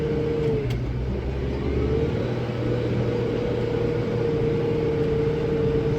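A farm tractor engine strains under a heavy manure spreader load, with a steady, loud mid-pitched drone and a faint whining tone running through it. The sound stays close and continuous with no voices.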